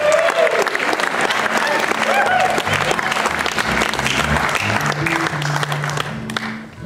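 Warm, sustained applause from a music gathering audience greeting a performer, dense clapping with crowd voices mixed in and faint tonal sounds underneath, tapering off at the end.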